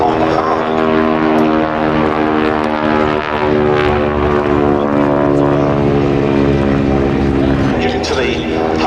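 A North American Harvard trainer flies past at the Duxford Battle of Britain airshow, its loud, buzzing propeller drone holding steady and close throughout while an announcer's voice talks over it.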